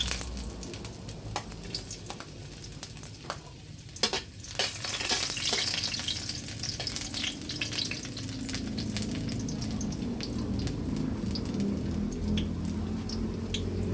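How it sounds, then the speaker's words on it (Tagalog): Ginger sautéing in a hot pan for chicken curry: a steady, close sizzle and crackle that swells after a few seconds and holds, with occasional stirring scrapes and no talking. "Igigisa ko na po itong luya."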